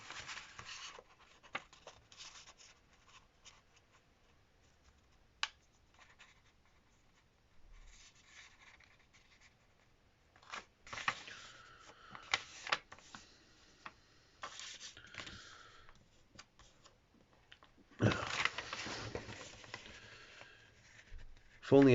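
Paper folded by hand into an origami box, with soft crinkles, rubs and creases in scattered bursts, some brief and faint, others louder toward the end, and a person speaking intermittently.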